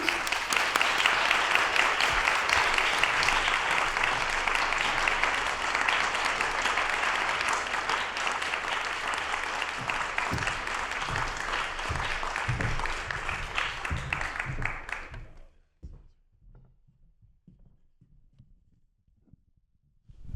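Audience applause at a public conversation event, loud sustained clapping from a crowd welcoming speakers to the stage for about fifteen seconds, then fading into scattered claps and near silence.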